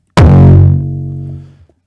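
A single raw hardstyle kick drum, heavily distorted and EQ'd, hits with a sharp punchy attack and then rings as a booming pitched bass tail that fades out after about a second and a half.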